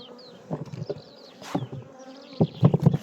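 Anatolian honey bees buzz around their hives in an apiary in Polatlı, Ankara, a steady close drone with louder swells as individual bees pass near, alone with no talk.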